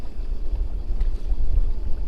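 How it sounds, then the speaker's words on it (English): Boat trolling motor running on high on Lake Oneida, a low steady drone mixed with wind buffeting the microphone, loud and close. "I turned my troller on high"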